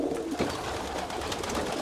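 Pigeons coo steadily in a loft, a soft, continuous murmur of overlapping calls from several birds close by, with no talking.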